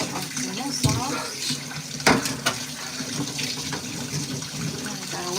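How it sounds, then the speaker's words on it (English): Tap water runs steadily into a kitchen sink as it is washed out after late-night dishwashing, a continuous splashing stream with a few clattering knocks near and moderately loud. "I gotta wash out my sink."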